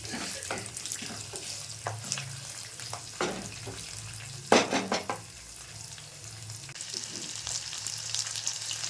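Onions frying in a pan for a curd tempering, a continuous close sizzle broken by scraping stirs and one louder burst midway.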